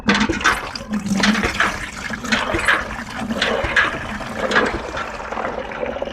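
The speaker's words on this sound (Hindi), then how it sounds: "अब दोबारा हम इस बाल्टी के अंदर हमें पानी भरना" Water pours and splashes steadily into a bucket, a continuous gurgling rush close by with no voices.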